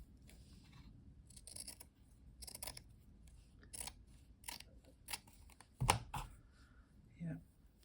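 Paper being cut with scissors for a craft project, a series of short crisp snips spaced through the clip with a few louder cuts near the end, close and fairly quiet.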